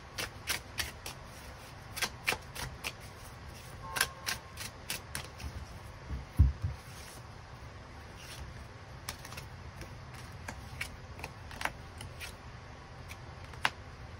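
Tarot cards are shuffled and drawn for a love reading, with quiet riffling broken by a series of crisp card snaps and taps, some in quick bursts, close by and with no voices.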